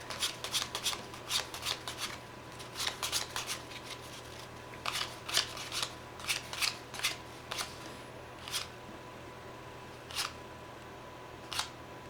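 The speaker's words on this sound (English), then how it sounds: "I'm going to count off the exact number of cards" Playing cards are counted off a packet one at a time, giving a series of crisp, close snaps in an irregular rhythm that thins out toward the end, over a faint steady hum.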